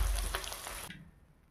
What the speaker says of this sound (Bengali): আমার তেল গরম হয়ে গেছে, এবার ভেজে নেব।